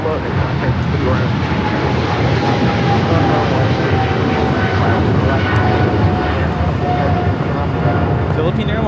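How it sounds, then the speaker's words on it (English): Philippine Airlines Boeing 777-300ER jet rolling for takeoff at LAX, a loud, sustained broadband roar with a faint steady whine running through it and no break in the noise. "Philippine Airlines 113 taking off to Manila on the 777-300ER Mabuhay"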